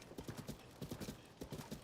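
Hoofbeats of a Lynel, a monster horse from the Zelda game Tears of the Kingdom, clip-clopping in quick rhythmic bursts of gallop, fairly faint and steady with short gaps, plus a hint of whinny and no talk.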